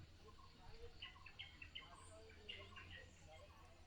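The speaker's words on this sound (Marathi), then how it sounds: "पाखरांचा आवाज येतो आहे किलबिलाट एकदम" Several short, high bird chirps and tweets just after sunset in a Konkan village, scattered over a steady low hum of outdoor ambience, fairly faint and somewhat distant.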